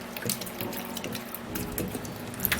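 Water runs and splashes steadily as a small amount is poured into a blender holding potato skin, a continuous close trickle with light splashy bursts and no talking.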